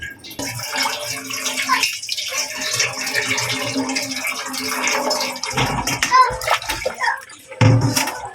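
Shrimp paste (bagoong) rinsed under a running tap, a loud steady splash of water into a bowl or sink with brief pauses, while people talk over it.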